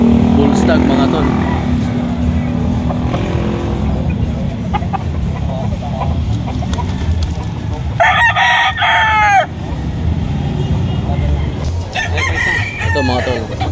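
Bull stags and other roosters at a busy poultry market in Lipa City, Batangas crow and cluck repeatedly, with a loud burst of crowing partway through and again near the end, over steady crowd murmur and passing traffic.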